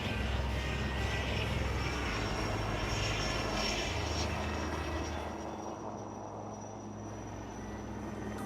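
Sarang helicopters and Suryakiran jets flying at the Aero India air show make a loud, continuous engine roar with rotor throb that fades slightly partway through.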